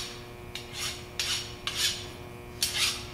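A hand file deburring the edge of a machined metal part on a vertical mill, four separate rasping strokes, each a short, bright scrape with pauses between, close and fairly quiet, no voices.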